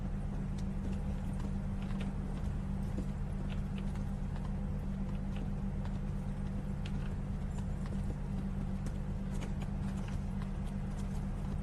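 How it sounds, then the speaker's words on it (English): Horse hooves clip-clopping in the medieval game Kingdom Come: Deliverance, a quiet, steady patter of hoofbeats that goes on throughout over a low ambient drone. "He's not in here, but his horse is here."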